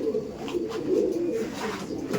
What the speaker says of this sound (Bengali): এটা ফিমেল পায়রা, তাই ফিমেল।